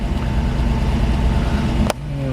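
Cold 1940 Buick 81C engine idling on a high idle, a steady low rumble heard close up, with a sharp click near the end as the idle drops.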